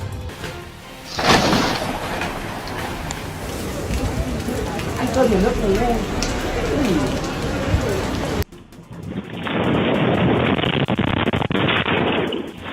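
Heavy rain in Turkey pours down steadily, a dense, loud hiss with splashing, changing character partway through as if heard from a different spot.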